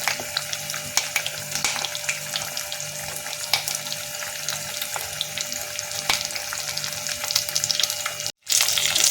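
Fish pieces with curry leaves frying in a pan of hot oil, giving a steady close crackling sizzle with scattered pops and faint scraping throughout.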